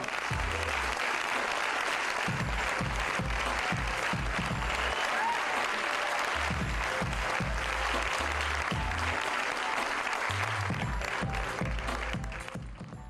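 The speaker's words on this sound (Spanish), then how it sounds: "Fuerte el aplauso para el señor Sebastián Cordero." An audience applauds Ecuadorian filmmaker Sebastián Cordero at a cinema event, with steady, dense clapping filling the room for about thirteen seconds and low thumping bursts underneath before it tapers slightly at the end.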